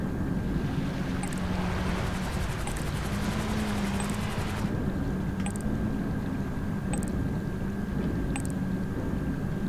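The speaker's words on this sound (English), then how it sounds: "An ex-army helicopter hovering by this platform's gonna raise suspicions." Ex-army helicopter hovering beside a platform in GTA 5, a steady droning rotor whir with a constant engine tone, blended with wind and ocean wash, plus faint periodic ticks.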